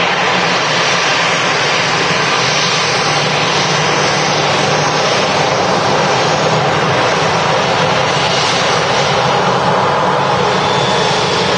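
Loud continuous roar of an easyJet Airbus airliner's jet engines at Manchester Airport, a broad steady rumble and whine filling the whole stretch with no talking.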